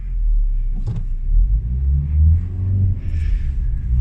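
A manual car is driven with a steady low engine rumble and small surges as it revs, heard from inside the cabin at close range without talk.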